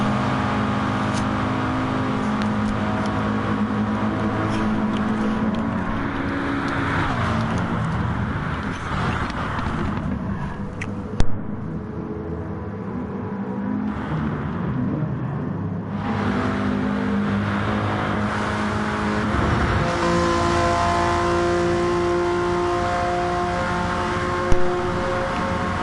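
A Honda NSX race car engine in a touring car racing game revs hard and loud for a long stretch, its high-pitched wail rising and falling through gear changes, with other cars roaring nearby.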